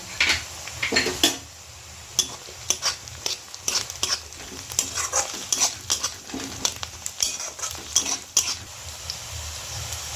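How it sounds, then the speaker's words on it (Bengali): Potatoes fry together with already-browned onions in a pan, a soft sizzle broken by frequent sharp scrapes and clacks of a spatula stirring at an uneven rhythm, close and moderately loud. "এর সাথে পেঁয়াজের সাথে আলুটা ভেজে নেব।"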